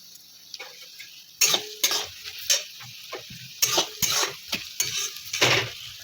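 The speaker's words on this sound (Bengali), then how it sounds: "এবার পেঁয়াজটা একটু ভেজে নেব।" Onion frying with sugar in a pan, a steady sizzle under repeated scraping and clinking of a spoon against the metal, the stirring strokes coming in quick irregular bursts close by.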